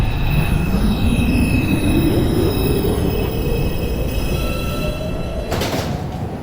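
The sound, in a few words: New York subway 5 express train arriving at station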